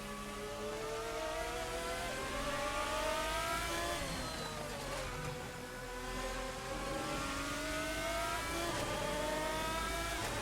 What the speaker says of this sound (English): the longer he's in front of me, the longer I get to hear that incredible engine note.